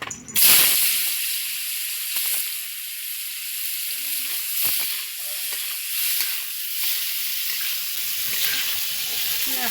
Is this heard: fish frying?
yes